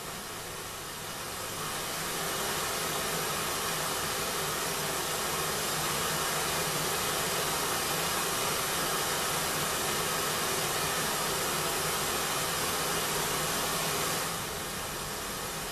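Steady broadband white noise hiss from a Żłob Modular Entropy synthesizer module, loud and constant, filling the whole clip before easing slightly at the very end.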